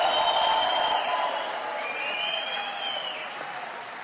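Audience applause in a hall at a political event, a dense sustained wash of clapping that stays loud throughout, tapering slightly toward the end, with no one speaking over it.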